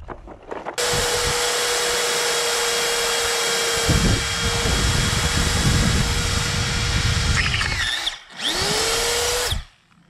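A power drill bores a 21/64 inch tap hole for 1/8 inch pipe thread in an excavator bucket pin, a loud, steady close-up whine that drops out briefly near the end before spinning back up.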